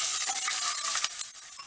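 Water poured into a hot pan splashes and sizzles, a steady hissing bubble with a few small clinks near the end.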